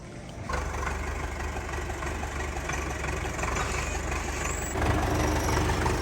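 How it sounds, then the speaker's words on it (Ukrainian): Tractor engine idling at a churchyard where clay is being hauled, a steady low rumble running close throughout and growing slightly louder near the end. "Пастор Михайло Андрійович сьогодні у нас трактористом працює, вивозить зайву глину жовту."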